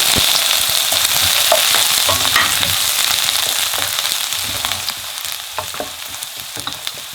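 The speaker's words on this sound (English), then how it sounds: "as soon as the oil gets hot, you can put the ginger garlic straight away" Ginger and garlic sizzle and spit in hot oil in a wok while being stirred, a steady loud frying hiss with scattered crackles and scrape sounds throughout, no voices.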